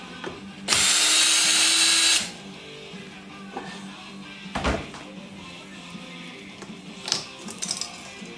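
A power drill whirs in one short burst, backing screws out of a silver clip on a 2002 Mazda Miata during a top replacement, followed by a metallic clink, a thud and small rattles of handled parts.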